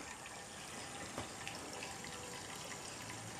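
Water runs steadily over a homebrew beer grain bed during sparging, a constant broad hiss and trickle close to the microphone with no pauses and no voices.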